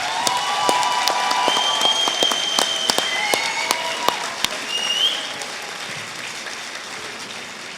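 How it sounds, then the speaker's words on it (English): A graduation ceremony audience applauds the new graduates, full and steady clapping with some crisp individual claps standing out and occasional whistles or cheers, tapering slightly in the final seconds. "I would like you to show your appreciation with a round of applause for them, please."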